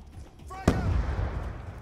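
One sharp gunshot cracks out in multiplayer Call of Duty: Black Ops II, followed by a rumbling tail of low-end noise. It stands alone at moderate loudness.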